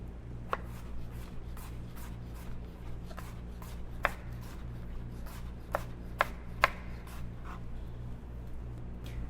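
A knife chops zucchini on a cutting board in a quiet kitchen, a dozen or so separate crisp taps at an irregular, unhurried pace over a low steady hum.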